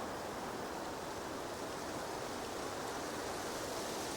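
Steady, dense hiss of rainfall, constant and even throughout, with no voices or other sounds on top.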